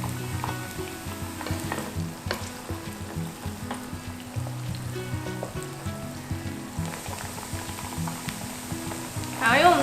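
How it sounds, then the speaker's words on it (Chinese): Dried tofu, dried shiitake, preserved radish and fermented black beans slow-frying in a pan after ginger, chili and bay leaf, giving a steady close crackling sizzle with brief stirring scrapes and a little talk over it. "我们就加入豆干、干香菇、菜脯跟豆豉，把它下去煸到金黄"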